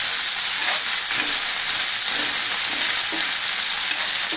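Crab pieces sautéing in hot oil with salt, a steady close sizzle and crackle running throughout with light stirring scrapes, no voices.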